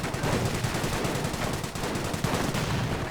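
Rapid gunfire and rifle grenade blasts in a World War II strategy video game, a dense continuous crackle of shots at moderate level filling the whole short stretch with no talk.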